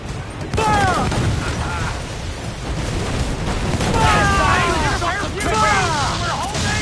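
Ship cannons firing in a naval battle in Assassin's Creed 4 Black Flag, heavy booms rolling out one after another amid the din of combat while crew voices shout over them.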